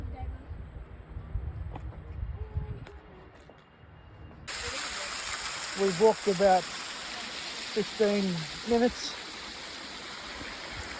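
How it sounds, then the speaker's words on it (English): A waterfall in the Blue Mountains, plunging over a 300-metre drop, sends up a steady broadband rush that swells partway through and continues under a person talking. "Check out that waterfall."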